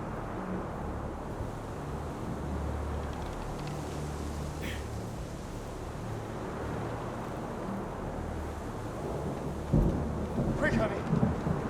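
A thunderstorm intensifying in the video game Deliver Us Mars: steady rain-like wash and low rumble throughout, with a sharper crack and louder gust near the end.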